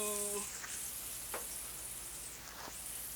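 Onions deep frying in a pan for chicken biryani, a quiet, even sizzle with a few brief louder crackles and a short tonal hum at the very start.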